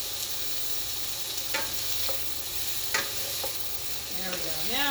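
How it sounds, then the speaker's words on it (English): Leftovers fry in a pan with a steady, close hiss and crackle, broken by a few scraping stirs; no one speaks. "Oddly satisfying just to watch it fry."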